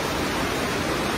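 A small creek flows steadily nearby, an even rushing wash of water with no pauses across a brief moment.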